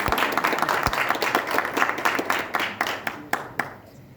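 Audience applause at a Gujarati entertainment event, a mix of crowd clapping with distinct sharp claps standing out, thinning and fading near the end.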